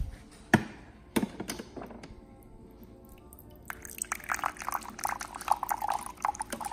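Cold water from a kitchen tap runs while Jello is being made, a steady splashing flow that starts after a few sharp clatters and keeps going, close and fairly loud.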